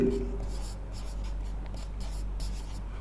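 Chalk scratching on a board during a chemistry lesson, rhythmic strokes over a steady low room hum, moderately close, with a teacher speaking.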